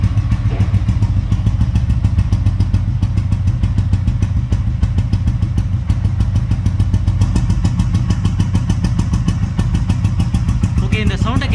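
A Royal Enfield Bullet Electra 5s fitted with a short core silencer exhaust idles close by, its loud, rapid thumping beat running steadily throughout.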